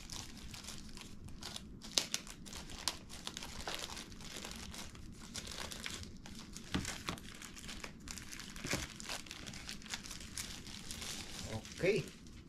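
Plastic packaging on a new DJI Mini 3 drone crinkles and rustles as it is opened, a run of close, soft crackles and tearing sounds with quiet talk in between.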